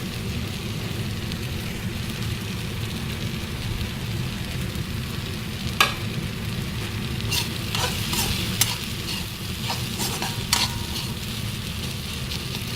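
Dried fish sizzles steadily in hot oil in a pan for an Assamese chutney, with a constant frying hiss and a few sharp scrapes of a spatula stirring it, close and alone.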